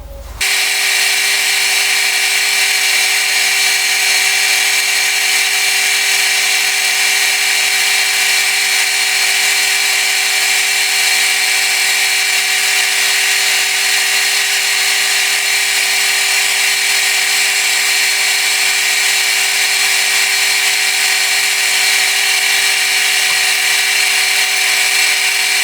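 An old high-speed steel lathe tool cuts a groove in a brass diesel injector return line fitting, a loud continuous whine with a steady tonal hum that holds unchanged throughout.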